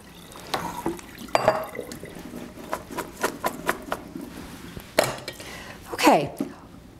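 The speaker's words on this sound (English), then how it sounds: "I'm just going to drain them now." Water drains off soaked, peeled potatoes into a sink, irregular splashes and drips with a few louder pours, close by.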